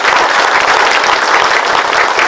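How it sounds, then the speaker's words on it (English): A round of applause for Martha Valdez fills a community room at the Northside Activity Center, steady dense clapping from a crowd gathered for a seniors' fraud-prevention event, loud and close with no talk over it. "let's give her a round of applause"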